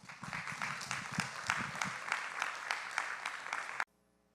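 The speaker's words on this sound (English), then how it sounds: "Let's give them a round of applause." Audience applause for city council candidates at a local election forum, a steady dense crowd clapping at moderate level for nearly four seconds before stopping abruptly.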